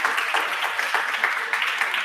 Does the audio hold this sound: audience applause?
yes